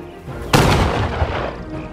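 Loud covering gunfire and booming artillery in the World War II strategy game Men of War 2, a sharp blast followed by a dense, sustained barrage with another heavy thump partway through.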